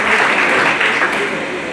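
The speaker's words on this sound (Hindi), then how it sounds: "साथियों इनके लिए जोरदार तालियां बजाते हैं" Audience at a retirement ceremony clapping loudly and densely all at once, a close, sustained burst of applause that tapers slightly toward the end.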